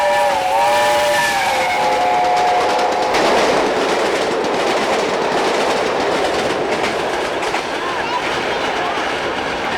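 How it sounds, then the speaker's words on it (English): Steam locomotive Duke of Gloucester rushes through a station hauling a special train. A loud whistle sounds at the start, then a sustained roar of the passing engine and carriages with rhythmic rail clatter. "we see the Duke of Gloucester rushing through the station, heading back to Kensington Olympia with the 1Z92 Sunny South Special"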